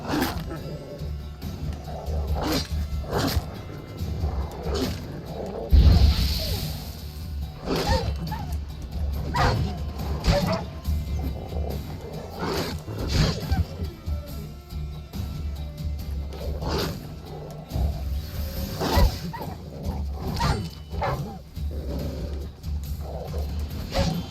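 Dogs in the video game The Witcher 3, at White Orchard, bark and yip in scattered bursts amid thuds and game noises, some growls and whimpers mixed in at moderate loudness.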